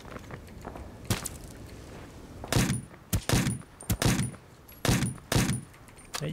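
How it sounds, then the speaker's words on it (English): Distant gunshots in the battle royale game Ring of Elysium ring out as a handful of sharp cracks, one alone, then a tight run of reports about half a second apart, each with a short ringing tail and no talk. "Shot from far distance now."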